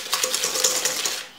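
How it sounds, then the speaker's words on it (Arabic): Egg yolks whisked with sugar in a bowl for crème brûlée, a quick run of close, bright metallic clinks and taps in steady rhythm, fading at the very end. "غادي نضيف دابا السكر ونطربهم مزيان"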